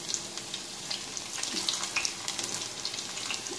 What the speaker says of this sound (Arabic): هلا بدي اقلي الجزر كمان